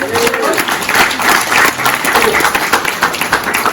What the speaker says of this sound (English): Big round of applause for our wrestlers.